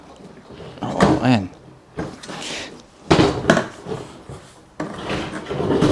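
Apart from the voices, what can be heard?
opening stuck motorcycle pannier lid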